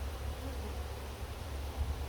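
Honey bees buzz around an open hive with honey oozing from the frames, a soft, continuous low hum heard faintly and steadily throughout, with no talking.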